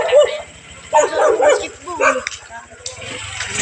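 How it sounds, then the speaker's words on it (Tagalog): Several dogs at a family house bark and yip in short, scattered bursts, fairly close, with people talking in the background. "Ang dami rin nilang aso."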